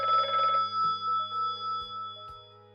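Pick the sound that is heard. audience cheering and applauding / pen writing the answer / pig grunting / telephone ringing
telephone ringing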